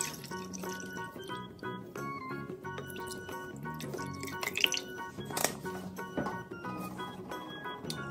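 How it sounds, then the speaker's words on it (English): Water trickles and splashes into glasses in uneven pours, with small clinks and drips, fairly quiet and close. "Let's pour some water."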